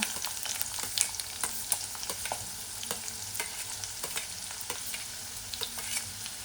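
Chopped onion frying in a pan for a snake gourd vegetable dish, with a steady close sizzle and repeated sharp scrapes and taps of a spoon as it is stirred, no talking.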